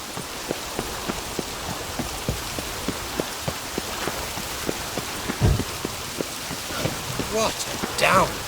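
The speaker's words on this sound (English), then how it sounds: "Looks like rain." Rain in The Witcher 3, a steady patter of drops with regular sharp ticks of water hitting a surface. Voices break in near the end.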